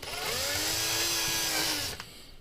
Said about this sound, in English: it's always good to have two different drills